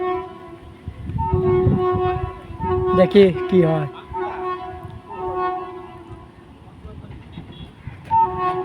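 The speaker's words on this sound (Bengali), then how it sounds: "আর সাউন্ডটা শুনে থেকে মনে হচ্ছে মালগাড়ি" A freight train rolls past, sounding long, tonal horn blasts that rise and fall across the stretch over a low rumble, with a person speaking briefly nearby.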